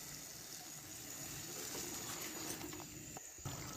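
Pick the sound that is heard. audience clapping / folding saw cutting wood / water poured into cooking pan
water poured into cooking pan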